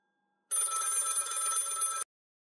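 A telephone bell rings in one continuous burst of about a second and a half, fairly close and alone, with silence before and after, in a domestic scene from a Marathi TV serial.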